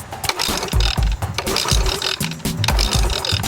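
An outboard motor is cranked by a hard pull on its starter cord during a compression test, giving a close, loud run of rhythmic low thumps with a mechanical ratcheting rattle and no voices.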